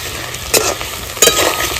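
Fried potatoes tossed with salt and turmeric in a pan: a steady sizzle with two sharp spatula clinks against the metal, close and fairly loud, no talking.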